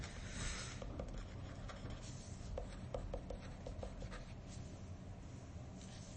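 Soft scratching of a pen scribbling notes, short irregular strokes against a faint background hum, fairly close and quiet with no voices.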